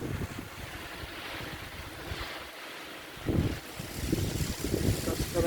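A strong west wind blows near wind turbines in near-hurricane conditions, roaring and buffeting the microphone in rough, uneven gusts that swell louder toward the end.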